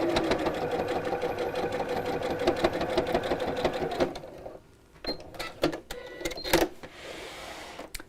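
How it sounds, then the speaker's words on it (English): A domestic sewing machine stitches fabric layers around a curve on a tablet sleeve with a pocket. A steady, rapid mechanical whirr runs for about four seconds, then breaks into short stop-start bursts of stitching with pauses. "just carefully stitch around the curve"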